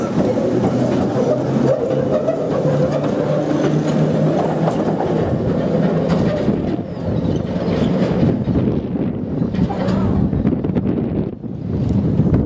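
An Island Line train on the Isle of Wight pulls away towards Pierhead, a steady loud rumble of wheels and motors with wind buffeting the microphone throughout, no voices.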